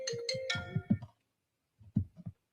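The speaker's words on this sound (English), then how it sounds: "I'm not answering your phone call" A phone ringtone from an incoming call plays a short melodic ringing phrase near the mic, followed by a voice talking over a football live stream.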